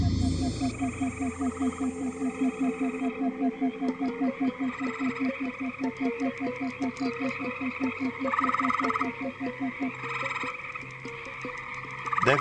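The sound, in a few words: male green frogs croaking at a pond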